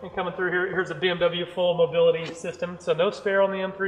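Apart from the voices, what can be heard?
No everyday noises stand out.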